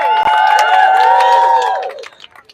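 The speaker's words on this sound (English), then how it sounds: "Could we give a big round of applause for my colleague, Councilmember Powers?" At an arts education rally in Brooklyn, a crowd cheers and applauds loudly with whoops and shouts, then the noise drops off sharply near the end.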